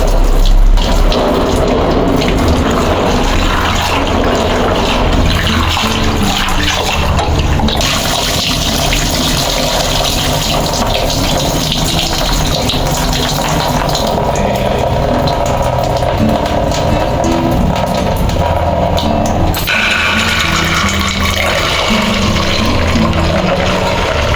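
Running water pours steadily while kidney beans are washed in a kitchen, a loud continuous rush and splash with small shifts as the flow changes.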